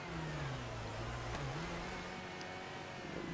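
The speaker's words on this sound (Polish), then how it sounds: "słychać jak ten silnik nie chodzi tak jak powinien" Rally car engine in the WRC 4 video game, running badly, drones steadily with an uneven, rough hum and no talk over it.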